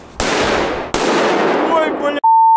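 A Korsar 12 firecracker, tied to the top of a television with an aerosol can, goes off in a loud, close blast. A second sharp crack follows, then a long crackling decay and a steady electronic beep at the end.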